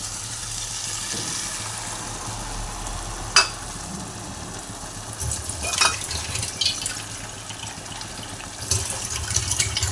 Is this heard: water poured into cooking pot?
yes